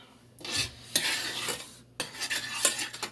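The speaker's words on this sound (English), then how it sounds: "We just want to cook the garlic a little bit." Fresh garlic cooking in a pan on a burner set to high, with bursts of scraping and stirring of a utensil against the pan over a soft sizzle, in three separate strokes with brief pauses between.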